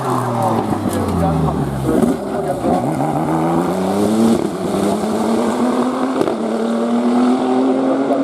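A Renault DRS race car climbs the Turckheim hill climb course, its engine note rising through the gears in clear upward sweeps, close and loud under a commentator's voice.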